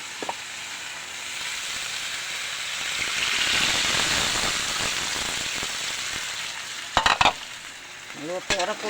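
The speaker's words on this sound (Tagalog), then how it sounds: "Luto ra po corn beef guys." Corned beef fries in a pan with a continuous crackling sizzle that swells midway, punctuated near the end by a few sharp metallic clinks.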